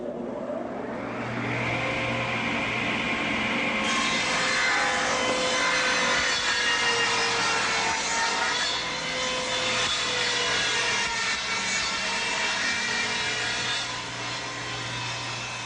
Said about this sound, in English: We finished our ripping of our plywood.